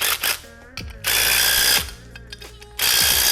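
A power impact tool drives fasteners on a fire sprinkler pipe fitting, firing in loud rattling bursts separated by brief pauses, with faint speech in between.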